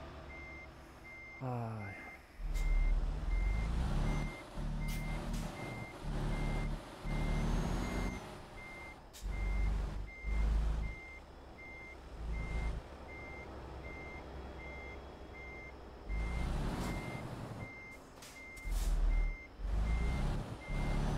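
Reversing beeps from a truck in Euro Truck Simulator 2 sound in a steady, evenly spaced series throughout, with engine rumble, a hiss of air brakes and a brief voice over the top.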